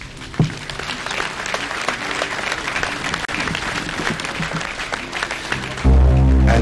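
A funeral ceremony audience applauds in sustained, even clapping that holds steady for several seconds before a loud, low sustained tone cuts in near the end.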